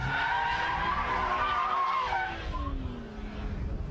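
Car tires skid and squeal as the car spins out of a drift from too much throttle, a loud sustained screech with a falling pitch sweep over steady engine and road roar, no talk.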